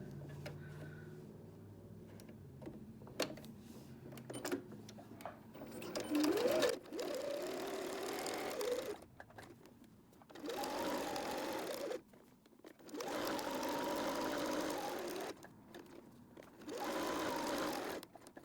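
Sewing machine stitching a fabric needle book with elastic, running in several separate bursts of steady mechanical whirring, each a few seconds long, with quiet handling noises and pauses between them.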